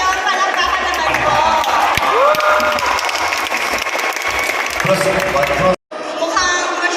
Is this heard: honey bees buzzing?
no